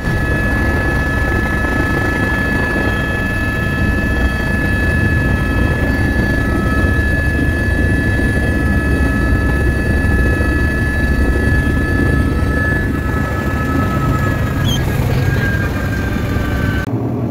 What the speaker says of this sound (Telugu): ఇదంతా లుక్లా ఊరు, మనం చాపర్ ల్యాండ్ అవుతుంది ఇప్పుడు.